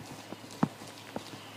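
A young horse trotting with plenty of suspension, giving a few faint, sparse hoof beats that land irregularly against quiet background noise, with no talking.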